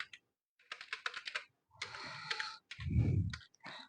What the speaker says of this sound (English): So I'm just typing over here